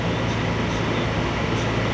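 Loud, steady roar from inside an R211A subway car on a Euclid Avenue bound C local train, dense rolling rail noise filling the whole short stretch without pause.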